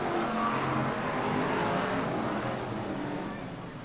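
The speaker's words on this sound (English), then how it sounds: "Cars then flying around the circuit." BriSCA Formula 1 stock cars racing around the Skegness circuit at night in 1994, a distant, steady roar of engines that fades slightly toward the end.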